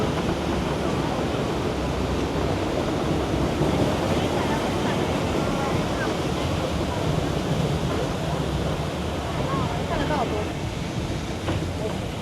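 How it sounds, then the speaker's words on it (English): Waterfalls at Giessbach in Switzerland, heard from a funicular heading up toward them: a steady, broad rushing roar of falling water that holds constant and loud throughout, with a few faint voices mixed into the wash. "Like you already hear the waterfalls."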